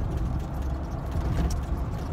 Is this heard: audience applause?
no